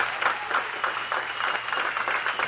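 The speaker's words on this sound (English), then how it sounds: "Let's give them a round of applause" Audience at a fintech demo day applauding a cohort of startups, a dense steady wash of many hands clapping throughout, fairly close and even in loudness, with no voices standing out.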